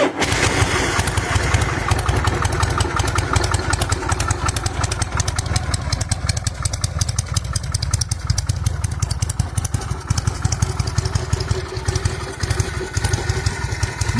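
A Harley-Davidson Fat Bob V-twin idles steadily, its deep, loud, lumpy exhaust throb filling the air without pause and with no voices over it.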